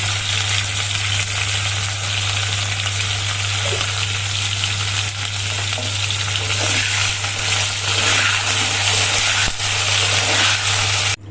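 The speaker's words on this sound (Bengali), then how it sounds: "স্বাদ মতো নুন আর একটু হলুদ দিয়ে পটলগুলো খুব সুন্দর করে লাল লাল করে ভেজে নেব।" Pieces of pointed gourd (potol) fry in oil with salt and turmeric, a loud, steady close sizzle with occasional stirring crackles and a constant low hum beneath.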